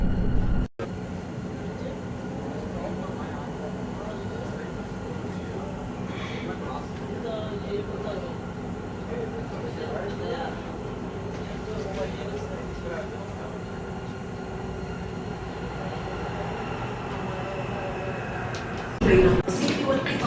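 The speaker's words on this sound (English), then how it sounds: "the train is here" A train rolls into a station in Saudi Arabia with a steady low rumble that stays constant throughout, while muffled voices sound faintly nearby and a couple of sharp knocks mark the start and end.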